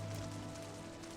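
Rain falls steadily in Final Fantasy 14, a quiet, even wash of patter over a low hum, continuous and with no voices.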